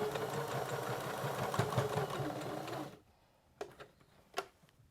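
A home sewing machine stitching fabric for a card deck holder, running in a steady whirring mechanical buzz for about three seconds, then stopping, followed by a couple of faint handling clicks.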